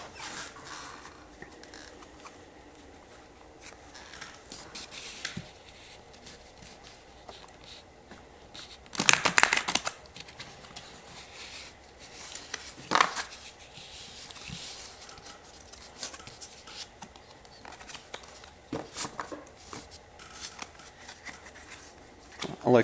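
Papery riffling and flicking of tarot cards being shuffled, mostly soft and scattered, with one louder, longer riffle burst partway through. No talking.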